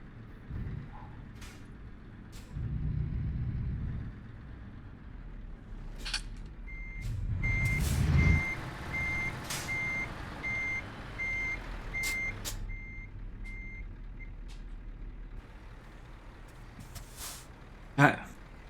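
Garbage truck reversing in a truck driving video game, its steady reverse beeps repeating for several seconds over the engine rumble and a brief air-brake hiss, with a person talking at moderate level.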